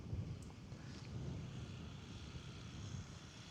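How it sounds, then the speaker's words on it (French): A strong headwind gusts across an open golf course, a low steady rumbling roar of wind against the microphone, faint and continuous with no talking. "j'ai un très fort vent de face"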